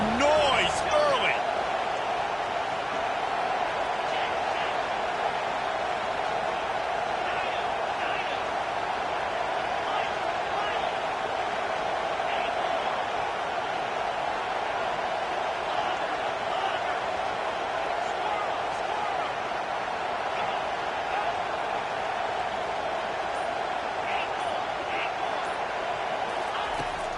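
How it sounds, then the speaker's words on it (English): Stadium crowd noise in Madden 22 football gameplay, a steady, even roar held at moderate loudness for the whole stretch, with occasional faint thumps and no clear break or swell. "This crowd bringing the energy and noise early."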